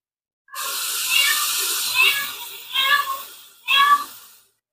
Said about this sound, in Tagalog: meow-meow ng pusa ko yun